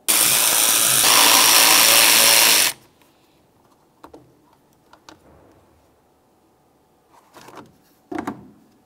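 A power tool drives out T25 Torx screws on a 2011-2018 Volkswagen Jetta during radiator replacement: one loud, steady whirring burst of under three seconds, then quiet, scattered clicks and light handling noises.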